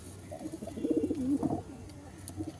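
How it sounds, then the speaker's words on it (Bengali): Pigeons cooing nearby, black-eyed birds in a pair, giving a few soft rolling coos mid-clip over a low steady background hum. "এই একটা চোখ কালো পায়রার জোড়া বসিয়েছি"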